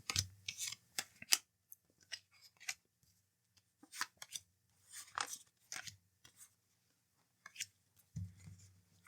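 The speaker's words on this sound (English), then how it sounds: "let me shuffle one more" Soft, crisp tarot card shuffling in short bursts of riffling and tapping, close and quiet, with pauses between.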